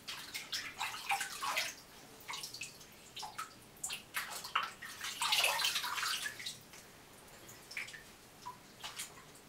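Water poured over a head during washing, scattered splashes and drips coming in irregular bursts, fairly quiet and close, with no talking.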